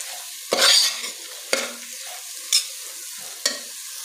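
A spatula stirs spices frying in a pan with turmeric and salt, four distinct scraping strokes about a second apart over a soft background sizzle, close and clear with no talking.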